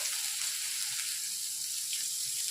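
Fennel seeds and a piece of ginger frying in hot oil in a pan for chicken kurma, giving a steady, close, even sizzle that holds without a break from start to finish.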